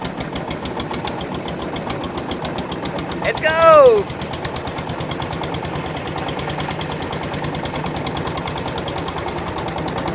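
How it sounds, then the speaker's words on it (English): Noisy engine of a wooden long-tail boat on Inle Lake, Myanmar, running with a loud, fast, steady chugging knock throughout; a voice calls out briefly over it partway through. "The engines are really noisy on the boat."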